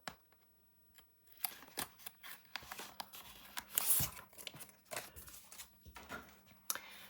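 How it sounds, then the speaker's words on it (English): Backing is peeled off adhesive tape while assembling a 9 x 9 scrapbook mini album. A quiet start gives way to scattered crackly rips and ticks, with a louder tearing burst near the middle. "I'm taking the backing of the tape off."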